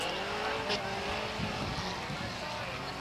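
Race car spinning out during a Saturday night feature at Waterford Speedbowl, a loud continuous roar of engines with brief tire scrub, steady throughout with a murmur of voices underneath.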